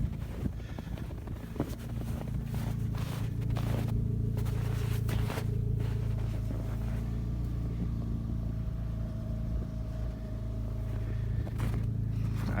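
A wrecked Nissan Altima with a broken windshield, dented hood and crushed door idles outdoors, its engine a steady low rumble mixed with wind noise and a few knocks.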